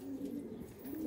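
A Shami (Damascus) pigeon gives a brief, soft, low coo nearby, a single short throaty phrase over faint background hum.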